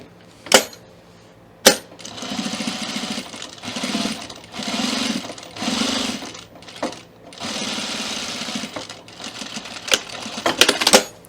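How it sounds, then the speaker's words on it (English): A domestic sewing machine runs in several bursts of fast, even stitching as it top stitches a zipper fly, close and clear, with short pauses and sharp clicks between runs. "And now we're going to top stitch this just to the opening down here."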